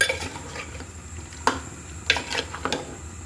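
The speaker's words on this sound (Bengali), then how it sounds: "আমি ঢাকনা লাগানোর আগেই কিন্তু ভালো করে একটু কষিয়ে নিচ্ছি" Desi chicken being stirred and braised in a pot, with a low background sizzle and a few sharp scrapes and clinks of the spoon against the pot, close and moderately quiet, no talking.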